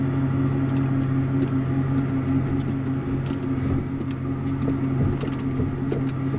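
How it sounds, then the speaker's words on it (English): A milk truck idles at a dairy farm while picking up a load of milk, giving a steady, continuous low engine drone and hum with no break. "The milk truck here now picking up a load of milk."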